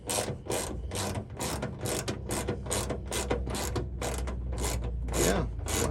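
Rapid ratchet clicking in steady bursts while a rusty bolt on a 1966 International battery tray is loosened, loud and close with no talking.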